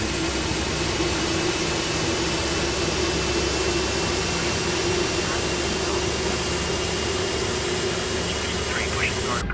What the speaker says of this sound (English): looks like we've got a good start on engine number 1